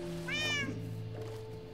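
A cat in a survival video game lets out a single rising meow over a steady electronic game hum, followed by a faint softer murmur.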